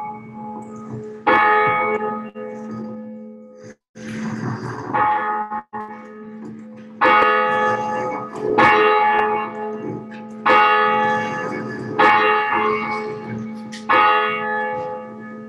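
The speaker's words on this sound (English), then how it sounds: "we'll have Jen ringing our bell." A church bell rings out for the start of a Sunday morning worship service, loud and sonorous with repeated strikes and long ringing decay, swinging in an irregular rhythm for the whole stretch with no talk.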